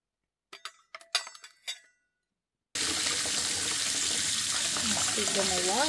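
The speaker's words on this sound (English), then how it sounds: "Give them a wash." Eggs preserved for about a year in lime water are rinsed under a running tap: a few brief clinks and knocks, then a short silence and steady, close water flow with splashing as they are washed.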